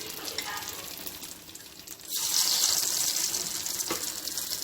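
Potato pieces for aloo Manchurian hit hot oil in a home kitchen, and a loud, steady sizzle swells abruptly and then carries on close by.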